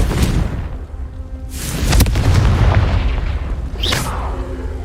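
Confringo blasting curse in Hogwarts Legacy, loud booming explosions with a rushing burst near the middle and another sharp blast toward the end over a heavy low rumble.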